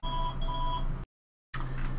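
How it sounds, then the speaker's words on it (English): A phone rings with two bursts of bright, steady electronic tones, close and fairly loud, broken by a brief pause. The ringing then cuts to total silence before room noise returns. "Oh, phone ring."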